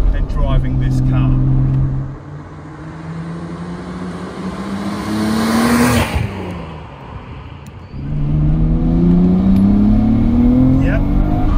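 A Nissan Skyline R34 GT-R V-spec II Nür with Nismo factory upgrades and a manual gearbox drives along, its engine droning and climbing in pitch through gears, easing off midway, then pulling hard again, loud and close from inside the car.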